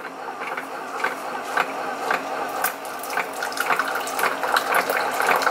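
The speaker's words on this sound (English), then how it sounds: "And we're gonna do 8 ounces of hot water." Hot water, 8 ounces, is poured into a tea tumbler, giving a steady close trickle and splash with a gurgling texture and small bursts that keep going for several seconds, with no talking.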